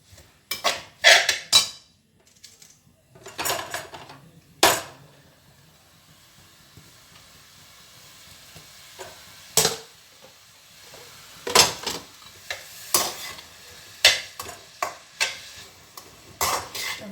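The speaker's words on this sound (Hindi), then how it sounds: "अब हम सारी कद्दूकस की हुई गाजर को मिला लेंगे, घी में मिक्स कर देंगे और अब इसको हम भुनना शुरू कर देंगे।" Grated carrots stirred and roasted in ghee, sharp spoon scrapes and clanks against the pan in irregular bursts over a faint background sizzle, close by.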